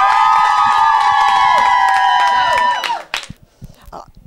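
Students in a school dressing room backstage at a student festival raise a loud, sustained chorus of cheering and whooping that cuts off abruptly, leaving a few scattered shouts and claps.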